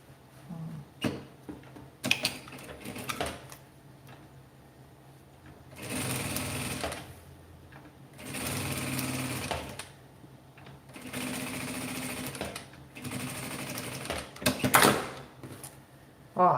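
A sewing machine stitches fabric scraps for a small handbag in three long whirring runs of several seconds each, close and steady, separated by quiet handling, clicks and fabric shuffling.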